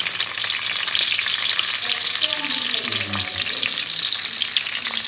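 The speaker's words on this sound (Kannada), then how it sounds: "ಇದನ್ನೆಲ್ಲ ಆಯಿಲಲ್ಲಿ ಚೆನ್ನಾಗಿ ಫ್ರೈ ಮಾಡಿಕೊಂಡು" Ginger, garlic and spices frying in hot coconut oil for a Kerala-style Marwai (clam) roast, giving a loud, steady sizzle that runs the whole time with occasional stirring scrapes and no talking.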